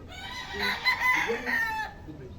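Pullets, young hens, clucking and calling at a gamefowl farm, a short burst of close, fairly faint bird calls with a soft voice in the background.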